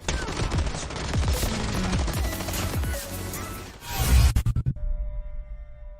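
The RUS submachine gun fires in Call of Duty Mobile, rapid full-auto bursts of crisp shots with sharp tails, loud and continuous before breaking off into a few spaced shots and a quiet electronic tone.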